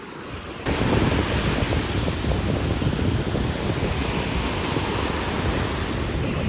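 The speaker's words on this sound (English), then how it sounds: "this is a really big, wide beach. Lots of waves out there." Ocean surf rolls onto a big, wide beach in Bali, a loud continuous wash of breaking waves mixed with wind buffeting the microphone, with no voices.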